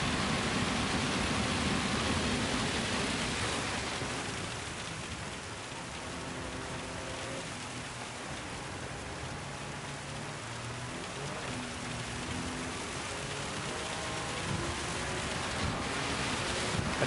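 Steady heavy rain hisses throughout a Gran Turismo 7 race at Le Mans in a Toyota GR GT Cup car, a dense, even wash of noise with faint engine tones beneath and no talk.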